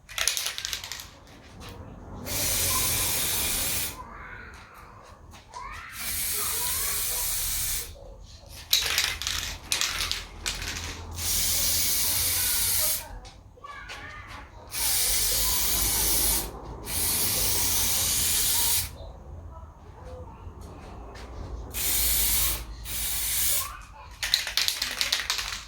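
Aerosol spray paint going onto car parts in repeated bursts of loud hiss, each a second or two long, separated by brief pauses filled with handling noise and quiet talk.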